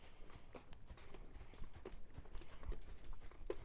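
A mare that is half Tennessee Walker and half grade stock horse trots in an arena, her hooves striking the ground in a steady, rhythmic clip-clop at moderate distance, with no talking.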